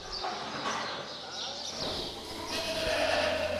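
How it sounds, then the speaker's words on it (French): Goats bleat on a mountain goat-cheese farm in the Savoy foreland at daybreak, several calls rising over steady outdoor background noise, with a voice speaking over part of it. "Un des petites biquettes."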